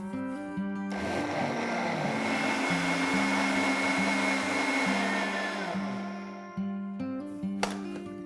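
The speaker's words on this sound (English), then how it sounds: "blend this into a thick soup, nice and chilled. Let's run all of this into a smooth puree." A blender purees cucumber and lettuce into a thick chilled soup, its motor whirring loudly and steadily with pulsing shifts in pitch as the blade churns, briefly stopping near the end before restarting.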